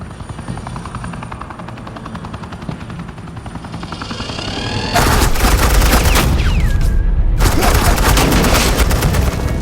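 Suppressing gunfire in Batman: The Enemy Within, arriving as a loud dense burst of rapid shots over a droning helicopter, cutting in sharply halfway through, pausing briefly, then resuming.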